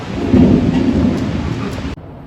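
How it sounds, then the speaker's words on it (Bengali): Heavy rain pours steadily during a thunderstorm, with a loud rumble of thunder rising early and rolling on before the downpour cuts off abruptly near the end. "কি জোর বিদ্যুৎ চমকালো। বৃষ্টির আওয়াজ পাচ্ছ?"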